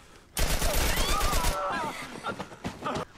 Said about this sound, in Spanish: al militar le ordenan matar a nuestro protagonista y se pone a dispararnos